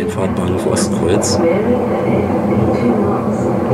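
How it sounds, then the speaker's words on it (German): A Berlin S-Bahn train rolling near Treptower Park and Ostkreuz, heard from inside: a continuous rumble of wheels and car body, with faint clicks and squeals early on, under a person talking. "Na, guckt jetzt unsere S-Bahn, die uns dann so langsam aber sicher auch nach Hause bringen wird."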